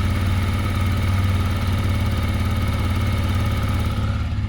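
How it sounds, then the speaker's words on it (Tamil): A TVS Apache RTR 160 2V motorcycle engine idles steadily nearby, a loud, even low-pitched rumble with a fast regular pulse and no change in revs. "நீங்கள் வந்து இன்ஜின் நோட் இங்கே ஐடிலிங்கில் எப்படி இருக்குன்னு பார்த்துருக்கோம்."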